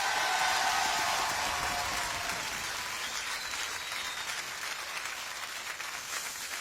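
Audience applause breaks out on a talk show, a dense burst of clapping that starts loud and gradually thins and softens over several seconds.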